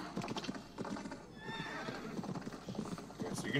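Horse hooves clip-clop and a horse whinnies in a video game from Ubisoft's E3 2018 showcase, with rapid galloping beats and a bright neigh over busy game sound, faint talk underneath.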